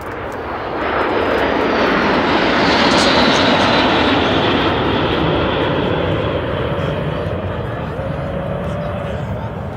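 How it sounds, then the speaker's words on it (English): L-39 jet trainers break overhead at the Warbirds Over Wanaka 2024 airshow, a loud, swelling engine roar that peaks midway and holds as the jets pass, with an announcer talking over it. "Look at this break here from the L39s."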